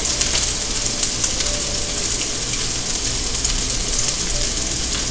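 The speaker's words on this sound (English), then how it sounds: "Just keep on stir frying it." Loud, continuous sizzling and crackling of chicken fried rice stir-frying in a hot pan, with faint scraping from stirring, steady throughout without any voices.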